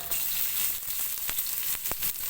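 Steady hot-oil sizzling and crackling, close and continuous, with a few sharp pops as white onions fry.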